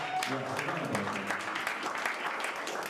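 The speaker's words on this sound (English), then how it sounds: "well give her a round of applause" Wedding guests clap during a best man's speech, a busy patter of hands at moderate volume, with the murmur of voices and chatter mixed in beneath the applause.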